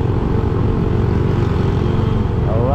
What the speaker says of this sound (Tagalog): Motor ay tricycle.